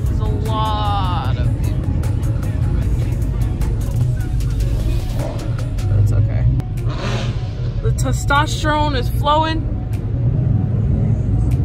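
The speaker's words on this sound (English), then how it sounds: "listen to those Mustangs roar" Loud Ford Mustang engines rumble and rev continuously at a busy outdoor car meet of about 50 cars, with people talking over the steady low roar.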